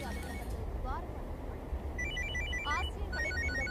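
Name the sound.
telephone ringing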